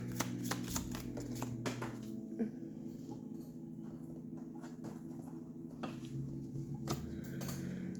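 Cards being shuffled and drawn, quiet close riffles and slaps in a rapid burst at the start, then sparser soft flicks and taps over a low steady background hum.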